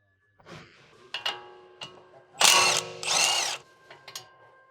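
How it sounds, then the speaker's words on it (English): Electric impact wrench with a 19mm deep socket spinning off the outer tie rod ball joint lock nut on a 2007-2013 Acura MDX, with two loud hammering bursts between short whirring spins and clicks, close up. "Use a 19mm deep socket with an electric impact wrench to remove the outer tie rod ball joint lock nut."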